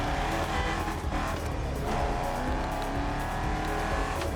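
Engines roaring with tires squealing in The Crew Motorfest racing game, a dense continuous rush of revving and skidding, loud throughout with no voices.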